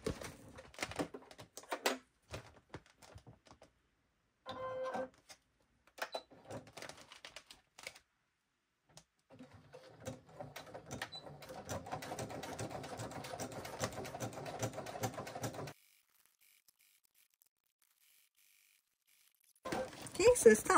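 A Juki sewing machine stitches a vinyl serger cover in short, rapid bursts of close rattling needle clatter. A longer continuous run follows, then a pause before it starts again.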